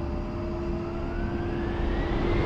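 The twin jet engines of an A-10C II attack aircraft in the DCS flight simulator run at full power on takeoff, a loud steady roar with a high turbine whine rising in pitch.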